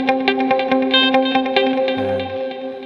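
Electric guitar run through reverb and delay on an HX Stomp modeler: a steady stream of plucked notes repeating and echoing in a wide, washy space, close and moderately loud with no talking.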